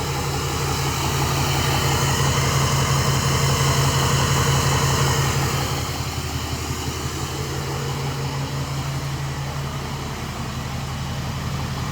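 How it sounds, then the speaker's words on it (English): A 2023 Ford 6.7 Powerstroke H.O. diesel truck idling at the exhaust, a steady low rumble with a hissing, airy layer on top that eases slightly halfway through, heard up close. "check up on the exhaust."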